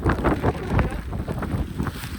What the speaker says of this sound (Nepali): सबै एकैचोटि आउँछ फेरि हावा